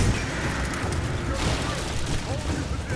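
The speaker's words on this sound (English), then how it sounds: "I'm not even sure we needed the gas leak for this bad explosion that's about to go off." A heavy rumbling blast from a gas leak explosion in Rise of the Tomb Raider, a broad booming roar that fills the whole stretch loud and sustained, with game noise and some speech underneath.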